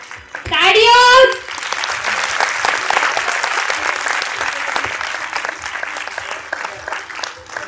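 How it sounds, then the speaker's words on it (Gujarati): An audience at a school annual day event claps in dense, sustained applause. It begins under a brief loud tonal whine and carries on evenly to the end, with faint voices underneath. "તાળીઓ"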